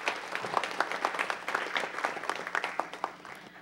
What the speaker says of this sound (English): Everyone, give him a round of applause as well.